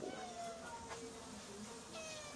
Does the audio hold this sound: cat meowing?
yes